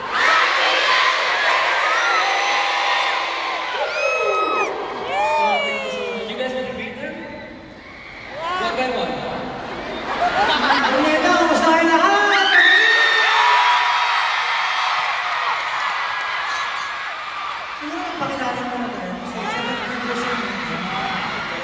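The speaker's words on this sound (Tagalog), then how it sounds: "Pwede mo tayo sumigaw ng happy anniversary in 3, 2, 1!" A large live crowd at an SB19 event shouts a happy-anniversary greeting together and breaks into loud, sustained cheering and whooping in rising and falling waves, with voices calling out over the roar.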